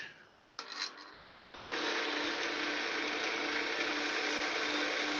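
Wood is burnished on a lathe while turning a bed post, starting with a few brief scrapes and then settling into a loud, continuous, close rasping rub.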